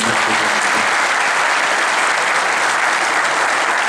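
An audience at an Urfa community evening event in Istanbul applauds, dense sustained clapping from a large crowd, loud and even throughout.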